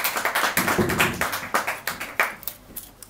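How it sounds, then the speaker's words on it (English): A small audience claps for a reader at a literary magazine launch, a short burst of close, distinct handclaps that tapers off over a few seconds with no one speaking. "round of applause there for Pat"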